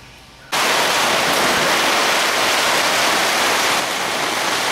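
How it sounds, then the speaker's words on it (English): Torrential rain and wind pounding on a carport, a dense, loud, continuous roar that starts abruptly after a quiet moment and holds steady with no voices. "rain and winds."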